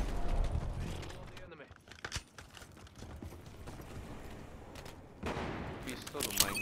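Gunfire in the video game Call of Duty Modern Warfare III on the Highrise map, loud bursts and rattling shots over a busy mix of game noise, with a voice speaking over it.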